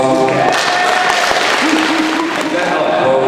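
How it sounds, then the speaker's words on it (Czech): Applause at a school Christmas show, loud and close, dense clapping that runs throughout with shouts and voices over it and sustained tones rising through the middle. "Aplaus."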